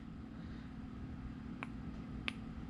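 Two small, sharp clicks about two-thirds of a second apart from a Wuben L3 flashlight's tail switch, a half click then a full click, faint against a steady low background hum, with no talking.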